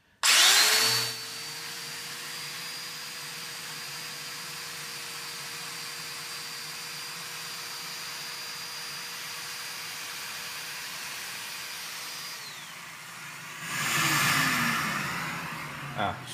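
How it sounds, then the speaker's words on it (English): A Festool Domino joiner runs with a dust extractor attached, giving a steady high motor whine and drone that holds for about twelve seconds before winding down, with short bursts of louder noise at the start and end. "I'm going to turn it on, and I'll show you the oscillating function that it has, show you how the plunge works"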